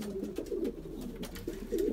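Male pigeon cooing repeatedly in a breeding loft, low throaty rolling coos coming in steady bursts at close range with no talk.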